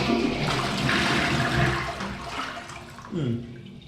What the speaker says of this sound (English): Let's see the flush.